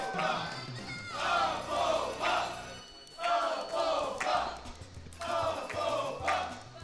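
A large crowd at a Mario Kart Wii speedrun event roars and shouts in repeated swelling bursts, each surge rising and fading with short gaps between.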